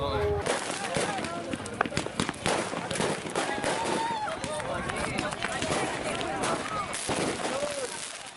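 Firecrackers going off during a street brawl before the pre-dawn Ramadan meal, sharp cracking pops scattered among running, shouting and crowd noise, with a loud chaotic mix throughout.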